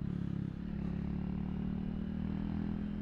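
Honda Cross Cub 110 motorcycle climbing a hill, its small single-cylinder engine humming steadily with a low clattering pulse and wind noise, heard from the rider's position at fairly low level.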